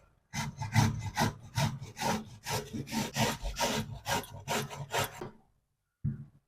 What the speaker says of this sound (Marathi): हा जो भोपळा आपण घेतलेला आहे याला आपण किसून घेऊया